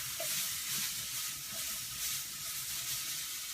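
Spices and chili powder stirred through a hot pan for a pasta sauce, a steady broadband sizzle and hiss running the whole time with faint scraping under it, close and fairly quiet.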